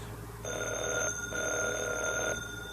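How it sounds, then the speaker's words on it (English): A telephone rings in an old-time sci-fi radio drama, two electric bell bursts separated by a short gap, clear and fairly close with no talk over them. "did that phone ring?"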